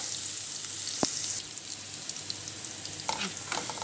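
Chopped garlic frying in a pan while bitter melon is cooked, a steady close sizzle with a sharp clack of a utensil near the start and light stirring scrapes later.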